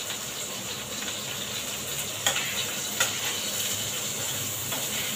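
Half-fried potato and sliced bitter gourd with salt frying in a kadai, a steady close sizzle with soft hissing and a couple of sharp clinks from stirring, no talking.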